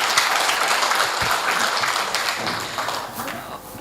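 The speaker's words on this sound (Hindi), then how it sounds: "एक बार तालियों से स्वागत करें," An audience at a Hindi-Urdu poetry mushaira (kavi sammelan) claps in a dense, steady wash of applause for a poet. The clapping tapers slightly toward the end, and a voice can be faintly heard under it.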